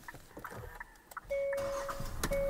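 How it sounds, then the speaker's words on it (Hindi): A 2023 Hyundai Creta engine starts, a brief starter crank giving way to a steady idle, with an electronic chime beeping twice over it and some handling clicks nearby. "गाड़ी को स्टार्ट कर लेता हूँ मैं"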